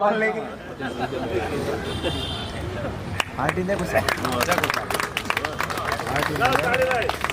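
Scattered clapping builds into applause from a crowd at a Jat community awards ceremony, mixed with chatter and a voice speaking over the noise.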